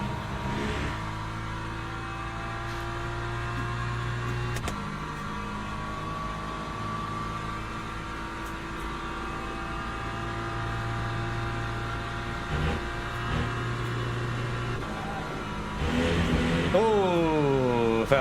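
Race car lapping in Le Mans Ultimate during practice at Spa, tyres fading: a steady, droning engine note holding through long stretches, with shifts in pitch and a rising rev sweep near the end.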